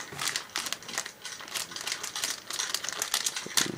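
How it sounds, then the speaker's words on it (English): A phone case is pulled from crinkly plastic packaging, with continuous close rustling and crackling of thin plastic over several seconds. "So let's get one of these out of the packaging."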